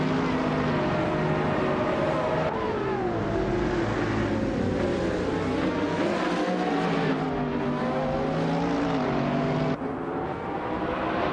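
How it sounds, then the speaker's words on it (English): Several AI-driven race cars in a video game roar continuously, engine tones gliding up and down as they rev, shift and jostle for position, loud and steady throughout with no talk. "We've got some exciting AI car races happening, so sit back and enjoy the show."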